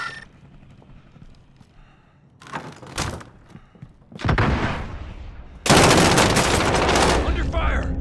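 Gunfire in Call of Duty Modern Warfare: short bursts of shots and thumps build to loud sustained automatic fire near the end, over a low rumbling background.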